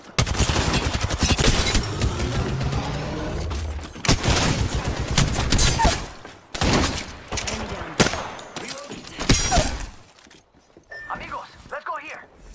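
Gunfire rips through a fast Apex Legends firefight, with dense bursts and sustained automatic fire in the first half, then more scattered shots and impacts, while voices talk over much of the action.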